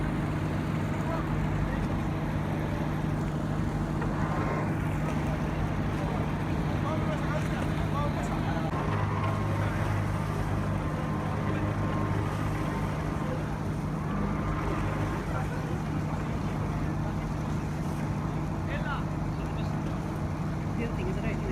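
A red high-speed powerboat waits at sea during a rescue near a passenger ship, giving off a steady, moderate engine rumble mixed with wind and water noise.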